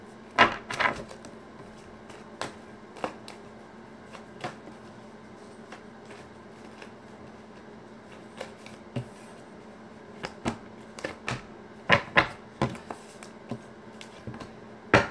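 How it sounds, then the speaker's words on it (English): Tarot cards being shuffled by hand make a series of quiet, irregular papery taps and riffles, some in quick clusters, heard close and faint with no talking. "One last shuffle for Sagittarius here."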